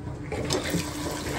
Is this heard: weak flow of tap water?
yes